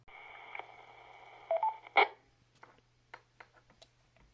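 Yaesu FTM 400 VHF ham radio sending short DTMF tone beeps over a steady hum, followed by faint crackling clicks, quiet and close.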